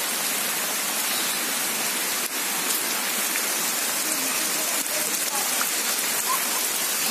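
Steady, dense rain from Cyclone Phethai falls in Amalapuram, East Godavari, as a loud, continuous hiss of drops on surfaces with no breaks and no voices.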